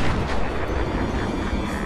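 Joker firing a gun at Batman in the video game Batman: Arkham Asylum, a dense burst of heavy booming gunfire with a thick rumbling roar, loud and close, no voices.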